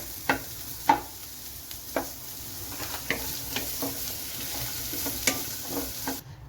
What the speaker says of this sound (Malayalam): അത് കാരണമാണ് ഞാൻ സവോളയും പച്ചമുളകും മാത്രം ഇപ്പം ഇങ്ങനെ വഴറ്റിയെടുക്കുന്നത്